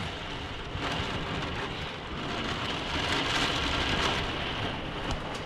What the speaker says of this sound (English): Wind and rain like crazy.